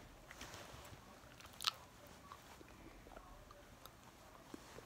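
Quiet chewing and biting on a plastic whistle, with one sharp crunchy click partway through amid soft mouth noises.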